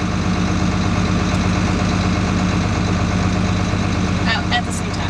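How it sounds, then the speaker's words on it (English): John Deere 4640 tractor engine running steadily at low revs as it begins to creep forward, a close, continuous diesel drone with no voices over it. "Now when you release the clutch, the tractor will slowly start moving forward."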